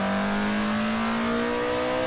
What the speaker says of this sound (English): That V8 engine, though.